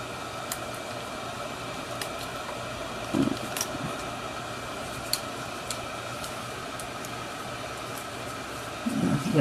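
A heat gun blows hot air over an iPad Air screen as it is worked loose: a steady, even whoosh of airflow with a few faint clicks and light handling bumps along the way.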